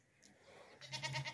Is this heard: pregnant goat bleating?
yes